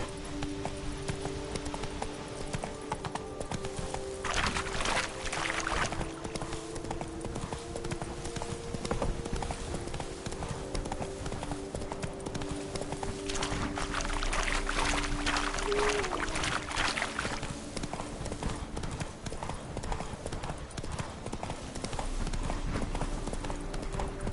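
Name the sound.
hooves of the horse Roach trotting, from a video game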